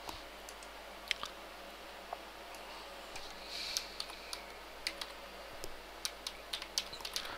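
A computer keyboard switched to an English layout is tapped in sparse, irregular clicks, quiet and close, with gaps between keystrokes and a faint room hum underneath.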